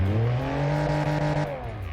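A tuned, deliberately sporty-modified odd vehicle in a video game revs its engine, a loud steady drone that climbs in pitch then eases off, without going very high.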